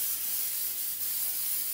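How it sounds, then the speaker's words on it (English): PAM baking spray made with flour and oil is sprayed onto a baking pan, a close, continuous breathy hiss lasting under two seconds. "Using my PAM spray, I'm going to go ahead and spray my pan."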